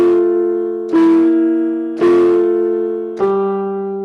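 Keyboard playing a slow hymn-like passage, both hands moving in contrary motion: four sustained harmonic chords, each struck about a second apart and ringing on, close and clear with no talking.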